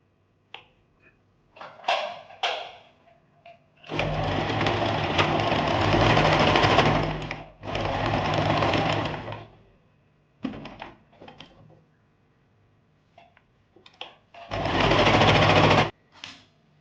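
A sewing machine stitches fabric for a handmade bow hair clip in loud whirring bursts of a few seconds each. Quieter clicks and handling of the cloth fill the pauses, and no one talks.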